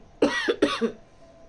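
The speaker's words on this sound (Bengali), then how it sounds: "কাশি মানে ঠান্ডা লেগেছে কাশিটা কমছেই না" Two sharp coughs in quick succession from a woman with a cold, close and clear, followed by quiet room tone.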